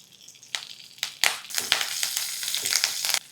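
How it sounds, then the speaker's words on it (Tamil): Curry leaves dropped into hot oil with mustard seeds, dried red chillies and cumin while tempering for a Tamil paruppu kuzhambu, giving a close, bright crackling sizzle with several sharp pops over a few seconds. "இப்போ இதில் கொஞ்சம் கருவேப்பிலை,"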